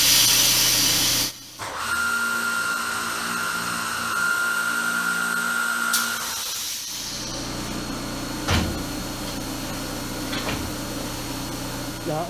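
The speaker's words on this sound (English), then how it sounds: "So we're going to go ahead now and drill the sides of our cabinets." Power drill boring adjustable shelf-pin holes into cabinet side panels in a workshop, a loud steady whirring run with a high whine, then shorter bursts and clicks; no talking.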